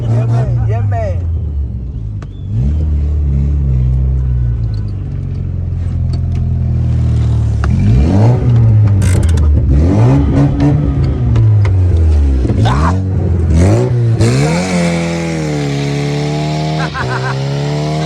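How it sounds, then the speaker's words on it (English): An MK3 doing a burnout on a road, the engine revving hard in rising and falling surges with tire screech building toward the end, loud and close, with people shouting over it. "We burn out in the road."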